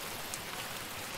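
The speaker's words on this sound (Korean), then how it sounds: "빗소리도 한번 넣어보겠습니다." A rain sound effect from music composing software plays as a dense, even patter of falling drops, loud and close, cutting off abruptly at the end.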